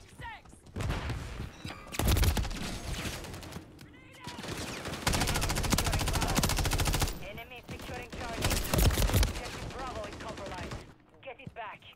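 Stock weapons fire in Modern Warfare 3 in loud, sustained automatic bursts, separated by brief pauses. A voice talks over the shooting between and during the bursts.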